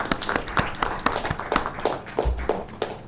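An audience at a Hindi journalism lecture event in Indore claps in a loose, uneven rhythm, with the individual claps distinct and fairly close.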